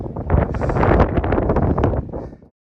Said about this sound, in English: Extremely windy and extremely cold.